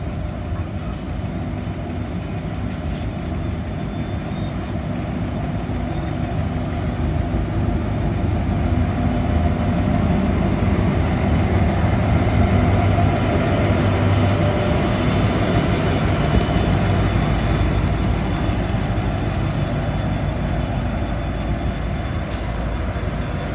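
A train hauled by LDP class locomotive LDP 003 rumbles past in a steady, loud roar that swells toward the middle and holds for over twenty seconds, with no voices.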